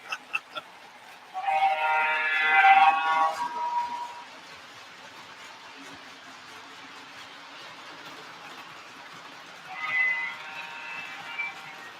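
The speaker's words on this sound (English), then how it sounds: "that horn is actually the horn on my Conrail unit" A Conrail diesel locomotive horn plays from a model train's Rail Sounds board: a multi-tone electronic blast of about three seconds, then a shorter, quieter sounding later, over a low background hum.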